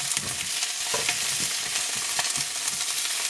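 Sea bass and mushrooms brushed with oil crackle and sizzle on a grill, a dense continuous hiss close by with light scraping, no voices.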